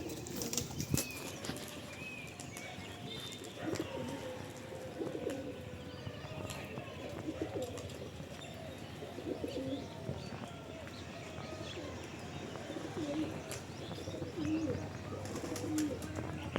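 A domestic pigeon performs a display flight, its wings flapping in repeated rustling bursts nearby while other pigeons coo and chirp softly in the background.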